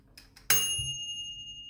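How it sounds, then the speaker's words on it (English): The timer on a Silvercrest SHF 900 air fryer gives a couple of faint ticks, then one bright bell ding that rings on and slowly fades, fairly quiet overall. "And there's the bell."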